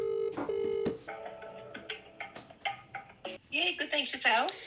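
Telephone keypad tones beep one after another at an uneven pace as a number is dialed, each short and clear, followed by a ringing tone at the end.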